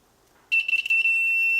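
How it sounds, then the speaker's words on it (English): A continuity tester connected across the neutral switch of a 1983 BMW R100RS motorcycle lets out a sudden steady high-pitched electronic beep after half a second of near silence, stuttering briefly before holding a continuous tone, close and clear. "I've got it set up right now so it'll make an audible noise when there's continuity"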